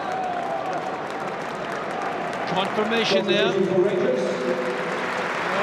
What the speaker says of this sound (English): getting a very good round of applause